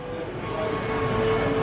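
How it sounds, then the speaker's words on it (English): A toy train runs inside a UK Costco store, giving a steady, fairly loud mechanical rumble with a faint tonal whine that continues without a break. "Look at the train!"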